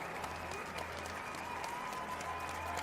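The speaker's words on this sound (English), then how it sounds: "good applause as Ted-Jan Blowman departs the ice" Crowd applause in an indoor speed skating oval at a World Cup meet in Calgary as a skater leaves the ice, a distant, even wash of clapping under a low steady hum.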